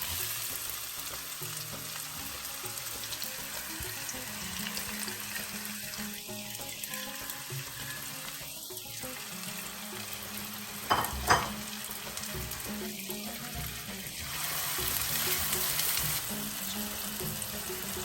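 Garlic and onion frying in a pan for a lamb tagine, a soft continuous sizzle with occasional stirring scrapes and a couple of sharper clinks, fairly quiet throughout.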